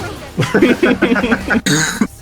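A young man breaks into a run of rapid, close coughs that blend into laughter, a quick sputtering burst during a Valorant gaming session with a friend.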